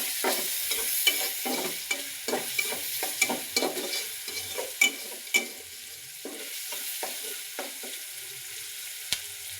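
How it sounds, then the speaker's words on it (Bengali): Salted onions sizzle steadily in a pan as a spoon stirs them in repeated scraping strokes, close and fairly quiet, with no talking. "পেঁয়াজগুলো ভাজা হোক দেখতে থাকো"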